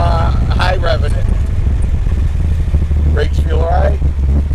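Big-block V8 in a 1966 Chevrolet Biscayne with a five-speed, rumbling steadily at low-to-mid revs with a deep continuous drone, while people talk over it.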